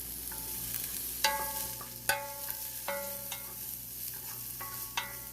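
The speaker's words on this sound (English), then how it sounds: "I'm like mixing the onion and the garlic together every time I'm frying it." Onion and garlic frying in a pan being stirred, with utensil scrapes and clinks over a low background hiss; fairly quiet and close.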